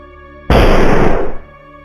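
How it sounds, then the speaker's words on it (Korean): A sudden loud explosion bursts from a radio, a heavy booming roar that hits abruptly, holds for about a second and then cuts off into near silence. "라디오에선 폭발음이 터졌고"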